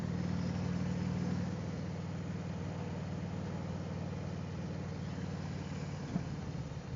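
Harley-Davidson Ultra Classic motorcycle cruising on a road near Lake of the Ozarks, with a steady, close engine rumble and wind noise running throughout and no talking.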